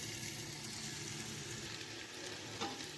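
Chopped vegetables with spring onions and tomato paste for empanada filling sizzle steadily in a hot pan, a constant bright frying hiss with faint stirring scrapes and no talking.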